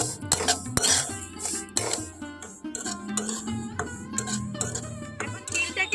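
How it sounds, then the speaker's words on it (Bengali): Sesame seeds dry-fried over a low flame are stirred steadily in a pan, with repeated scraping and clinking of the utensil against the metal. The sound is close and fairly quiet. "আঁচটাকে হালকা রেখে তিলটাকে অনবরত নাড়াচাড়া করে এইভাবে ভেজে নেব একেবারে মুচমুচে করে"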